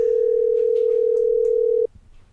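A steady telephone dial tone holds at one unbroken pitch for nearly two seconds, loud and clean, then cuts off abruptly into quiet line hiss.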